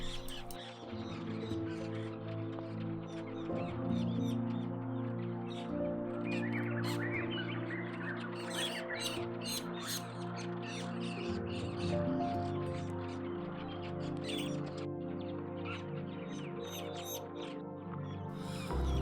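Dense, continuous chorus of metallic starlings, many of them immature, calling from a she oak; overlapping chattering and harsh rasping notes fill the whole stretch at steady loudness with no talk.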